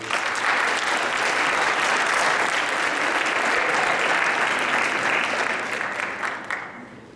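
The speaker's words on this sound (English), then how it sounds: "if you could help me give them a round of applause real quick" Sustained audience applause at a high school Black History program, dense and steady for about seven seconds before tapering off at the end.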